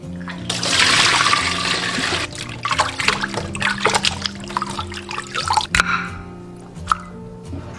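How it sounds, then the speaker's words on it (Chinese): Pork ribs washed in water in a kitchen, splashing and dribbling close by with clattering knocks and irregular drips, a louder rush of running water at the start. "首先把排骨清洗干净。"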